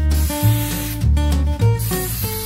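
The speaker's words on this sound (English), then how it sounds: "I spray the rear of the frame in long even strokes about 8 to 12 inches out." A Flex Seal aerosol can sprays coating onto the rear of a TV lap tray frame in long, even strokes. It gives a loud, close, continuous hiss in several bursts, with short breaks between passes.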